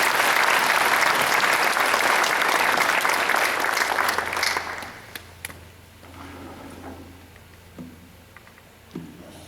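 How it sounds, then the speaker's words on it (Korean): Loud, sustained applause from a church congregation welcoming the pastor, dense for several seconds and then stopping abruptly, leaving a quiet room with small knocks and faint murmurs. "한번 뜨겁게 환영의 박수"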